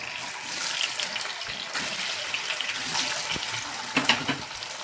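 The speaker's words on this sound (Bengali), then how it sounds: "এবার এর মধ্যে আমি একটু পনিরের কিউবগুলো দিয়ে আমি একটু হালকা একটু ফ্রাই করে নেবো।" Paneer cubes fry in hot oil in a frying pan with a dense, continuous hiss, a few louder crackling bursts rising near the end.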